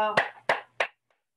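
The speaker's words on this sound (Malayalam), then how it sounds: "ഒരു ബിഗ് ക്ലാപ്പ് ക്ലാപ്പ് ചെയ്തിട്ട് നമുക്ക് അത് കിടക്കാം" A group claps hands in three loud, evenly spaced bursts, the first starting just after a short voice.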